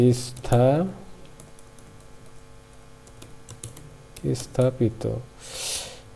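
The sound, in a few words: typing on a computer keyboard in MS Word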